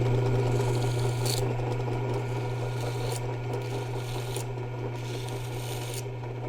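A rifle stock for a Weatherby Vanguard is cut and shaped by hand, giving a steady close rasping scrape over a constant low hum, with periodic brighter strokes.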